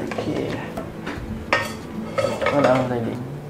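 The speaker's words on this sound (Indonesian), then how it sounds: "Ini udah kita goreng, masukin sausnya ini." Goat pieces being fried and tossed with butter sauce in a metal pan, with clattering of a spatula against the pan and a soft sizzle underneath, busy and close, with faint voices.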